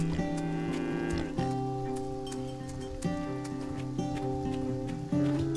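Cattle in the farming game Farm Together moo in long, drawn-out calls that overlap and repeat every second or so, moderately loud over faint background clatter, with no voices.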